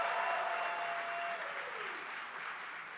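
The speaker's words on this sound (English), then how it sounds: "Can we give them another round of applause?" Applause from a convention audience for a rock band that has just played, a steady wash of many hands clapping with a cheer at the start, fairly loud and sustained before gradually easing.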